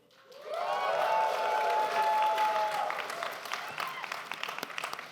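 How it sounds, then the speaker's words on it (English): A live audience at a video game panel breaks into cheering and clapping that swells quickly and holds loud, with whoops and yells over steady applause that slowly thins out. "cheer if you think this scene is steamy?"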